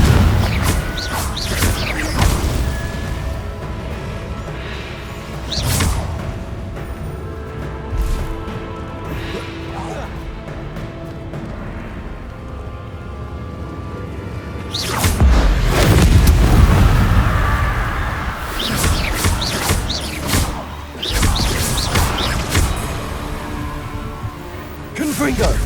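Repeated Confringo blasting-spell explosions in the Hogwarts Legacy video game, heavy booming crashes erupting in bursts over a busy game soundscape, with the loudest blast rumbling around the middle.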